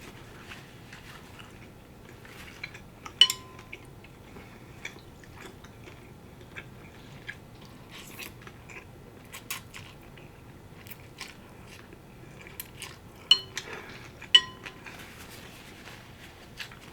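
Quiet chewing and slurping of beef short rib pho, with soft wet bites and occasional sharper crunchy clicks scattered over a faint room background, close to the mic.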